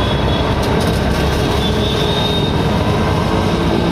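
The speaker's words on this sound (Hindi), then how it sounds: "ये जो भी आवाज़ आ रहा है ना ये एयर ले रहा है पंप" A loud, steady mechanical roar with a rushing, clattering texture from a single-phase three-piston high-pressure pump drawing in air, with no talking.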